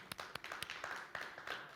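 Scattered hand claps ring out in a quick uneven rhythm, a small group applauding at moderate distance.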